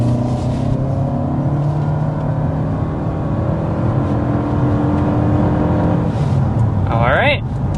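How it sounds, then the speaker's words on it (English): A 2025 Toyota Camry XSE hybrid midsize sedan with two electric motors accelerates hard, its engine drone and road noise steady and loud throughout, with a brief voice near the end. "that was a very quick acceleration to 60 for a midsize"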